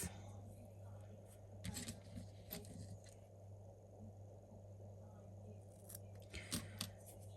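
Scissors snip through crochet yarn while finishing a seagull amigurumi, several short, soft cuts at about 2 and 6.5 seconds over a steady low background hum, close and quiet.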